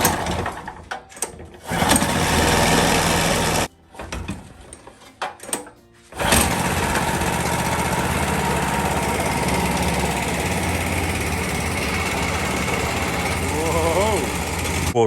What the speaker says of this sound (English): This is where the motor sits. Lightweight Chinese.